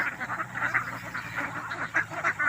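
A flock of domestic ducks quacks in quick, repeated bursts at moderate distance, steady chattering calls rising and falling over a low background hum.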